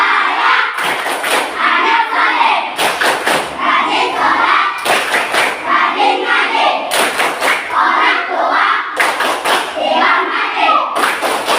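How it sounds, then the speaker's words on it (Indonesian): Children in an Indonesian classroom clap hands in a chant, loud groups of claps in patterned bursts repeating across the stretch, with voices chanting along between the claps. "Satu kali tepuk, dua kali tepuk, tiga kali tepuk."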